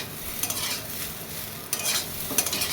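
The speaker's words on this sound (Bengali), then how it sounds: "এই যে আলু ভাজা হচ্ছে" Potatoes fry in a pan with a steady, close sizzling hiss, swelling in a few brief louder bursts as they are stirred.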